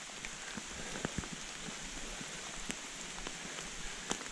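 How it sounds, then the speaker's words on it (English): A hard, steady downpour on the Appalachian Trail fills the scene with an even wash of rain hiss, punctuated by occasional sharp nearby drop impacts, with no voices. "it's been raining pretty hard like this for the last half hour"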